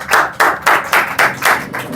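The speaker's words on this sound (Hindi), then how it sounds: "जोरदार ताली बजाइए" Audience in a hall giving loud rhythmic applause, about seven strong synchronized claps in an even beat over two seconds, with no talk.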